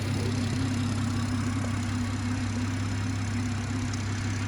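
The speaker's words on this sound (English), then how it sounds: "This is the straight 6 twin power turbo engine." A BMW M140i straight-six twin-turbo engine idles with a steady, even low rumble and constant hum, heard close up with the bonnet open and no talk.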